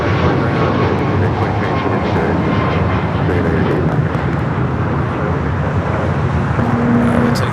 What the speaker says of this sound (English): United at 737-800 in the Star Alliance,